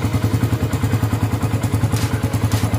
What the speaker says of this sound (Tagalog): So ganyan daw yan kapag malamig yung makina. Yan. May lumalagitik.